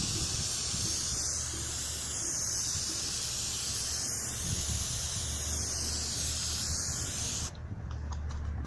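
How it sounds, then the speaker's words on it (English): Steady hiss of a coating being sprayed onto a car headlight during restoration, heard as a continuous close spray that keeps going without a break and then cuts off abruptly near the end. "I'm going to spray this on and you'll see how this transforms as we go."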